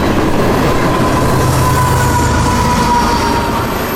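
A long freight train of phosphate hopper cars and empty tanks rolls continuously by nearby, its steady heavy rumble and wheel clatter holding level throughout, with a faint tonal whine riding on top.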